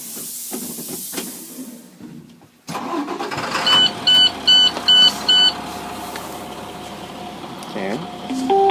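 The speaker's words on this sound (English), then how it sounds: "Okay, we'll restart the bus." A bus engine restarts after a pre-trip inspection, cranking and catching to a steady idle amid hiss, with a run of sharp, evenly spaced dashboard warning beeps layered over the running engine.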